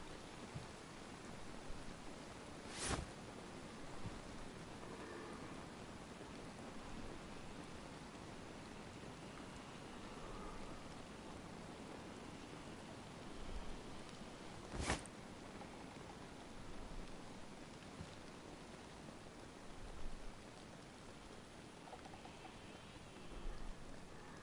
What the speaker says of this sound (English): Hear the sound of the rain on the tent.